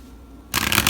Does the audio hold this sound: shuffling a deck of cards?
yes